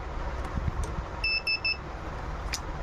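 The buzzer on a Microtech 16-amp charger card under repair gives three short, evenly spaced electronic beeps near the middle, moderately loud over a faint hiss of room noise, with no talk.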